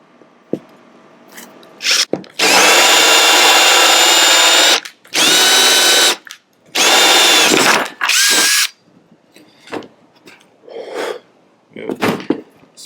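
A Makita 12 volt 2.0 amp brushless cordless drill runs in four loud, close bursts with steady high whine, separated by brief pauses, followed by softer handling clicks and rustles.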